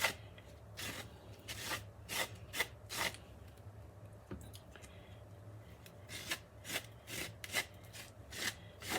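Frosting being scraped off the sides of a cake, with soft rhythmic rasping strokes repeating around it, quiet and close, with no talking.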